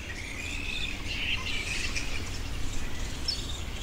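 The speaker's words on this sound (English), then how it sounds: "So that noise you can hear is a flying fox colony, or fruit bat colony." A flying fox colony of hundreds of fruit bats in a single tree beside a river, a dense continuous wash of high chattering squeaks and shrill calls, steady and moderately loud with no talking.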